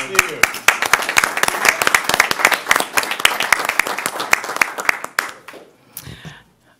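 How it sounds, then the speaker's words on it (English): A room full of people at a fire board meeting applauds with dense, loud clapping that tapers off into a few scattered claps. "Round of applause."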